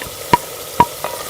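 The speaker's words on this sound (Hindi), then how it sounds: "अब हम इसमें ये फ्राई किए हुए प्याज शामिल कर देंगे" Fried onions being stirred into beef already browned with yogurt and spices for bhuna gosht, giving two or three short, distinct scraping clicks of a spoon against the pan over a faint background hiss.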